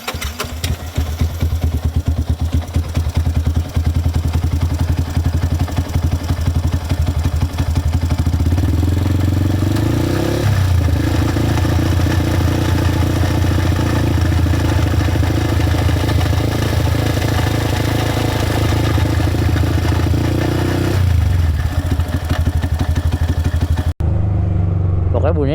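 A Yamaha R15 motorcycle engine with a hoarse, raspy exhaust note runs loud and close, holding steady then revving up twice above 3000 rpm, rising and falling around 10 and 21 seconds before cutting off abruptly.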